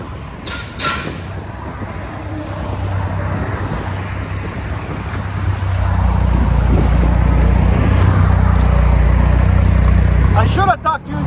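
A straight-piped Jeep Grand Cherokee rumbles nearby, with a low idle that swells into a louder, sustained deep drone midway before cutting off near the end.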